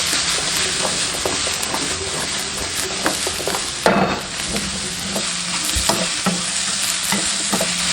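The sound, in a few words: stir-frying gourd in a wok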